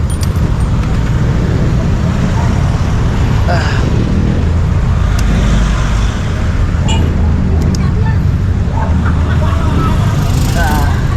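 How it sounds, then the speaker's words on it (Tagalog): Heavy road traffic close by makes a loud, continuous roar of engines and tyres with faint intermittent horn-like tones over it. "Grabing traffic."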